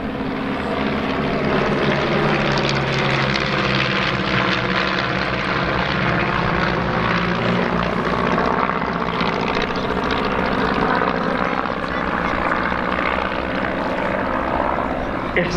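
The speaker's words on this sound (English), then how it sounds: "The lead aeroplane effectively describes and maintains the shape" Propeller aeroplanes flying in formation at Old Buckenham Airshow, a loud, steady engine drone that holds throughout with a slowly shifting pitch as the formation passes.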